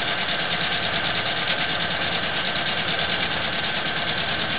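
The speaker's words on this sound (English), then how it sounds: "grab a hold of the material so it's nice and taut, and I'll start sewing again" A sewing machine stitches through a quilt in one continuous, even mechanical whir that stays loud and close for the whole stretch.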